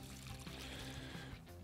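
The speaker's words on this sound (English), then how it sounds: "then you just need to add another tin full of just water" Water from a tin trickles and pours into a bucket of barbel bait mix made of pellets, hemp and meat, a quiet continuous splashing dribble heard up close.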